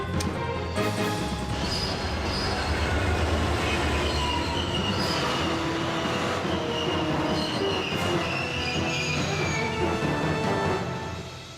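Moving train in the video game Resident Evil 2, a loud continuous rumble of rolling wagons with squealing wheels and metallic rattles, steady throughout and fading slightly at the end.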